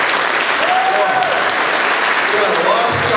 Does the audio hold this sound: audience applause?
yes